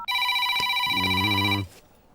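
A telephone rings once, a bright electronic ring with layered tones lasting under two seconds, then cuts off into quiet.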